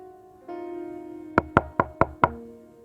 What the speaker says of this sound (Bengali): কেউ নক করছে